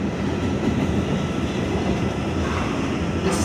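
An R211A D train on the New York subway between Coney Island–Stillwell Avenue and Kings Highway, heard from inside as a continuous loud rumble and rattle of wheels on track, steady with no pauses.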